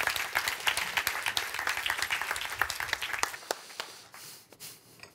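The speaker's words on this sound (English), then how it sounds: "Please give Eric a big round of applause" Audience applause at a microbiome startup pitch day, dense clapping from a seated crowd that thins out and trails off into a few scattered claps near the end.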